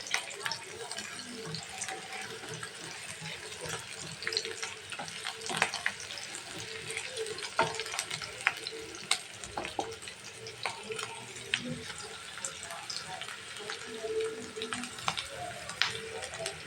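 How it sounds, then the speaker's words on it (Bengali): Chopped onion and green chili fry in oil in a wok, giving a continuous close sizzle broken by frequent clicks and scrapes of stirring. "পেঁয়াজটাকে কিন্তু ভালোভাবে ভেজে নিচ্ছি"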